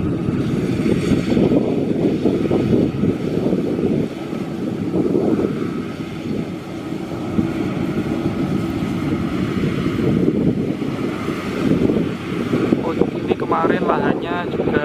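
Maxxi Bimo 102 combine harvester working a rice field, replacing a broken Yanmar machine, its engine giving a steady loud rumbling drone with wind buffeting the microphone throughout.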